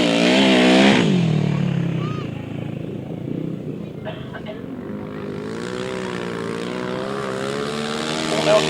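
Grasstrack sidecar outfits racing on a wet, difficult track, their engines a steady loud drone with rising and falling revs throughout, under a commentator's talk.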